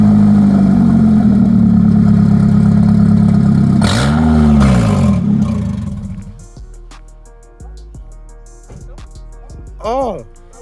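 Honda Civic engine with a new exhaust fired up and revved hard, a loud rasping drone with rising and falling sweeps, then a sharp blip near the end over a lower idle.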